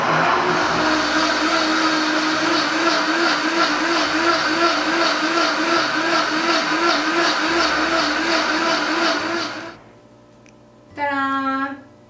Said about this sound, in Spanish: le voy a poner la opción de smoothie que tiene mi licuadora